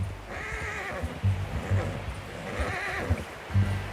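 A horse in Red Dead Redemption 2 lets out a loud, close whinny and snorts over a steady clip-clop of hooves, with a second neigh following a moment later.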